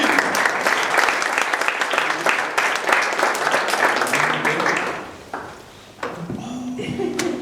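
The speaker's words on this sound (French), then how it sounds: "Oh, les applaudissements aussi." Audience applause from a church gathering fills the room with dense, steady clapping that fades after about five seconds, followed by a few scattered sounds and a brief voice.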